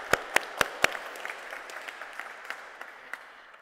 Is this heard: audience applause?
yes